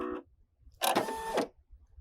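A Brother embroidery machine's automatic thread cutter snips the thread, a short mechanical whirr and click lasting about half a second, close and fairly loud, after a brief earlier motor buzz.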